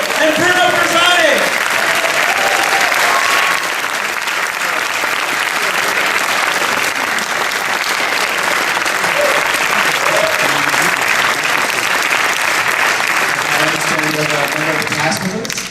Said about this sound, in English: Please keep applauding for Helena Gutte and Bruno Pisani!